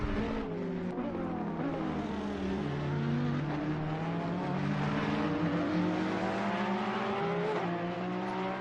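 A Ferrari GT3 race car with a 90-degree turbo V8 of about 4 litres and around 600 horsepower, racing at Zolder, its engine note rising and falling steadily through gear changes, loud and continuous.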